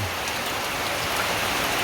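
Steady gentle rain falling in a village after a hot morning, an even close hiss of drops pattering on surfaces with no talk.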